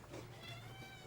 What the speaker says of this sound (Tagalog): So, ayun, may pusa.